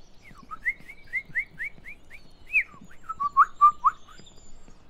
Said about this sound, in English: Going to enjoy the sound of the pretty birds.